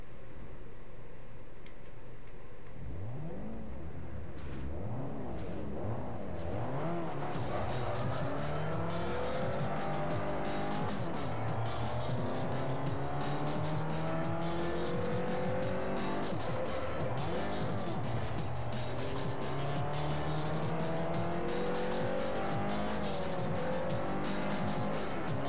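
Race cars in Forza 4 roar and rise in pitch through gear changes, with tire squeal and skidding as one car spins out, loud and continuous with other engines around.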